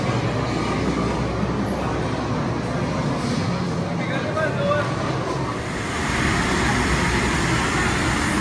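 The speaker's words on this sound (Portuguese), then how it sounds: "Vai pegar o trem do Harry Potter agora." Harry Potter themed train ride at Universal Studios Orlando: a steady, loud rumble of a moving train carriage fills the whole stretch, with faint voices mixed in under the continuous rolling noise.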